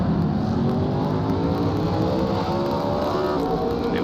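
Onboard race car engine in a racing video game at Portland, driven flat out: a loud, steady, sustained engine drone with shifting pitch layers and no talking.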